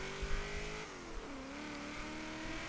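1977 AMC Pacer X engine in Forza Horizon 3 on an autocross course, a steady revving drone that drops pitch at a gear change and climbs again, with faint tire noise, fairly quiet throughout.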